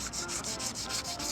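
Sandpaper rubs back and forth on an aluminum car wheel in quick regular strokes, giving a steady rhythmic scratchy hiss at close range with no voices.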